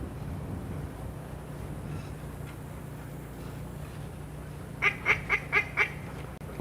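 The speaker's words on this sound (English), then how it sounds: "Blows the duck call to say she's ready." A duck call is blown in five quick evenly spaced quacks near the end of the clip, sounded at a retriever field trial championship before a bird is launched, over steady outdoor wind and background rumble.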